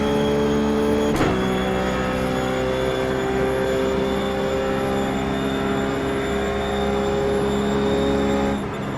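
Ruf GT3 race car engine at Spa-Francorchamps in a sim racing game, a loud continuous high-pitched drone holding nearly steady revs, with one sharp click near the start.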